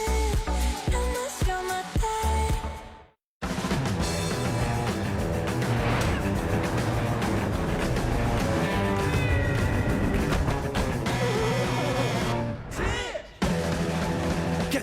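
Cats meow repeatedly in a French TV advert, their cries set against continuous loud music that briefly cuts to silence twice.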